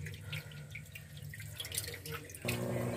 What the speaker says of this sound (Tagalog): padaluyan na ulit natin ng tubig yan